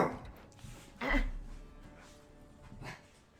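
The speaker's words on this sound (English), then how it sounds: "My dog is having a bad dream and now the other one has awoken from his slumber." Dogs in a room, one stirring awake from a bad dream, with a soft low whimper and a brief louder muffled yelp-like burst near the start, then quiet breathing and rustle in the background.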